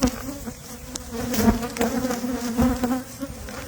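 Honey bees buzz steadily around several hives, a dense droning hum that swells and dips as insects fly close past, with no voices.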